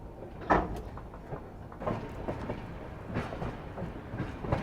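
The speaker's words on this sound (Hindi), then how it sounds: "धीमे धीमे अपनी गाड़ी ट्रैक्स चेंज करते हुए लुधियाना जंक्शन में एंट्री ले रही है।" Train changing tracks as it slowly enters Ludhiana Junction, with irregular clunks and clattering wheel knocks over points under a steady low rumble, fairly quiet and without talk.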